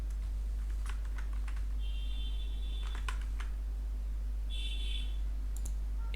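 Clicky typing on a computer keyboard while searching for Windows Explorer in Task Manager on Windows 11, a short run of separate keystrokes up close, quiet and without talk.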